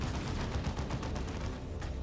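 A Techmarine's Melter Gun fires in the strategy game Dawn of War 2: Retribution, giving a dense, continuous crackling blast with rapid pulses under busy battle noise.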